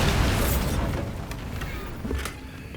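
Bombarda blasting spell going off in Hogwarts Legacy, a loud low rumbling explosion with sustained booming debris noise and a second smaller burst near the end.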